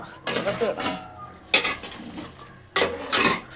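A spoon stirs chicken curry in a pot over low heat, three scraping, clattering strokes against the metal with a faint simmering sizzle between them, close and clear with no voices.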